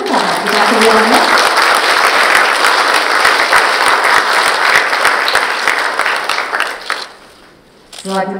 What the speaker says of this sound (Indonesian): Bolehkah kita ini dengan tepuk tangan kita semuanya?